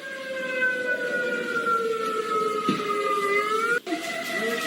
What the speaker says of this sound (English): That's the outdoor warning sirens that were being sounded at the time.